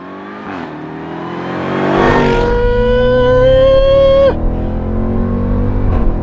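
A 2018 Jeep Trackhawk SUV engine revs up and accelerates hard, close and loud, its rising whine climbing for a few seconds before the pitch drops at a gear change and the engine keeps pulling.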